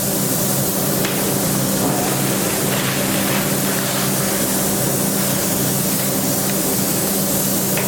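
A Graco E-10HP sprayer runs a test spray onto a sample board, a loud, constant hissing rush with a steady machine drone underneath, unbroken throughout.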